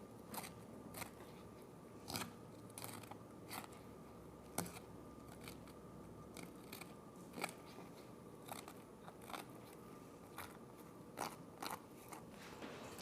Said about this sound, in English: I'm going to have to cut it with the scissors, but you can hear it